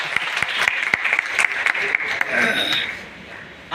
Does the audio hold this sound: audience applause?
yes